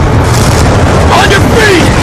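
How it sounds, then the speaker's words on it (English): A Hellstorm missile explodes in a video game during a Hardpoint league match, giving a deep, rumbling boom with a sustained roar and whooshing debris. Game voices speak over it. "Friendly Hellstorm missile inbound."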